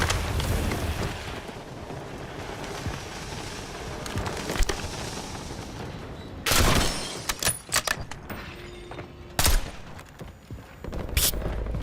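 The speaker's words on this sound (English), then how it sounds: "It's like a BB gun" Gunfire in the video game Warzone, sharp bursts of rapid shots breaking out in clusters over a steady bed of game noise, with quieter gaps between the volleys.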